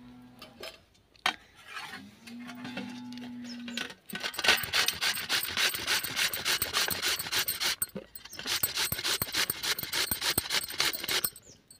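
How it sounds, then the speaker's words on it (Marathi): Raw papaya is grated by hand for pakoda fritters, producing rapid rhythmic rasping strokes, close and steady, that grow denser and more continuous after a few scattered scrapes and a brief hum at the start. "पपई जी आहे ती आपण किसून घेणार आहोत."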